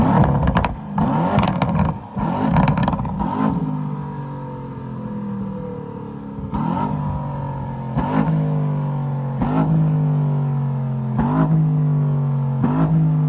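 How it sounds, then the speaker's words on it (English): Aston Martin DBX S engine revving and crackling through its exhaust, loud and close, with several sharp throttle blips and pops in the first seconds, then repeated rising revs with brief bursts every second or so. "you hear the exhaust note gets slightly more aggressive, shall we say"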